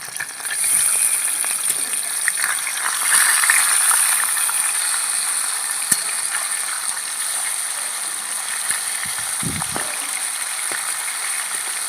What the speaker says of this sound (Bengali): কড়াইয়ের তেল ভালো মতন গরম করে নিয়েছি মাছগুলো ভেজে নিচ্ছি